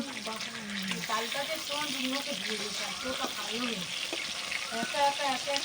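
Fish fries in very hot oil and is stirred around the pan, a close crackling sizzle with occasional scrapes, while someone talks over it throughout.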